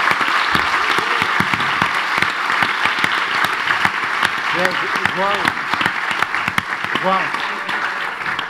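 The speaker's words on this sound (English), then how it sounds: "So I would just like to give one big round of applause to the amazing planning team and the team that have put together the declaration" A forum audience at a non-formal education event gives a loud, sustained round of applause, with scattered voices and brief exclamations breaking through the clapping.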